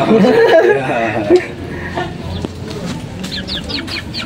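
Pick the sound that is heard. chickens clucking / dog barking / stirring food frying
chickens clucking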